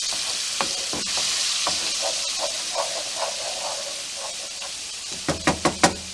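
Garlic fries in a pan for shrimp scampi, giving a steady loud sizzle and hiss throughout, with a few soft stirring scrapes and a quick cluster of utensil clinks near the end.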